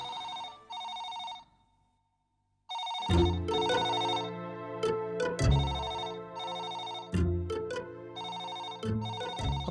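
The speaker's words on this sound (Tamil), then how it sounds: "போன் எடுக்காதீங்க. அது ஐஎஸ்டி கால்." A telephone rings with an incoming international call, bright electronic ring bursts repeating after a brief pause, then a busier tonal ringtone pattern continuing over a low musical backing.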